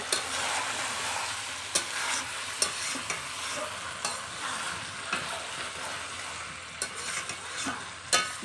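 Chicken curry sizzles and fries on a clay stove as a ladle stirs the pot, a steady crackling hiss broken by sharp scraping clinks of utensil against metal every second or two, with no one talking.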